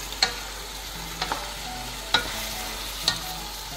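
Pork kaldereta with Worcestershire sauce cooks in a pan, giving a steady low sizzle broken by a few sharp utensil clinks and stirring scrapes, spaced irregularly, close and alone.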